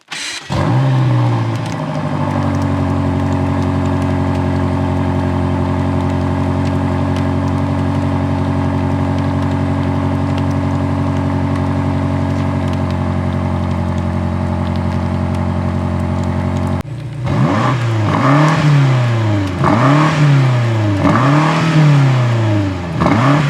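A BMW M5 with an aftermarket exhaust holds a loud, steady high idle for about seventeen seconds, then blips its throttle repeatedly in quick rising-and-falling revs, close and with no talk.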